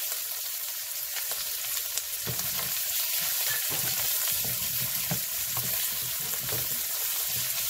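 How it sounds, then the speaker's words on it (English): Liver frying in oil in a pan with garlic, a dense steady sizzle with crackling pops and occasional stirring scrapes, close and loud with no talking. "Because we're cooking liver, liver tends to absorb oil."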